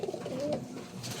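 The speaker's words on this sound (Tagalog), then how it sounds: "nagpahuli yung isang ibon na paikot-ikot dito" Close pigeon cooing, a soft low rolling call that rises in the middle and then trails off over a quiet outdoor morning hush, with no other voices present.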